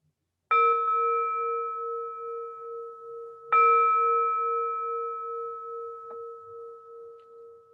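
A meditation gong is struck twice, about three seconds apart. Each stroke rings out clearly with a bright metallic tone that sustains and slowly fades in a quiet room, with no talking.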